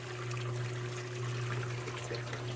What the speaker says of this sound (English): Now we have a full siphon, and this water is draining right out.